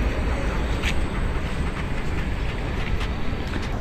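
A metro train rumbles at a station in Vienna, a loud, steady low roar of rolling wheels and machinery close by, with faint clicks and no voices.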